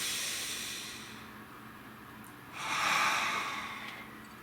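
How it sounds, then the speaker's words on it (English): A slow, airy inhale followed by a louder breathy exhale from a single person, close and quiet, with no talk. "Nice deep breath."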